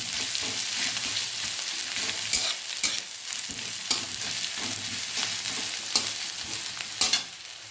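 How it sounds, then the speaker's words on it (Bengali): Onions fry lightly in a pan with a bright, continuous sizzle and repeated scraping of a spatula stirring them. "পেঁয়াজটা হালকা করে ভাজবো,"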